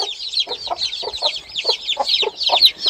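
Many young chicks in an enclosure cheep continuously in rapid, overlapping high peeps, calling for two brooding hens, with a few lower clucks from a hen mixed in, close and fairly loud.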